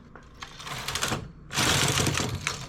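A domestic knitting machine knits rows of lacy scarf yarn: rattling carriage passes come in two bursts, the second louder and denser after a brief lull, all close up with no talk.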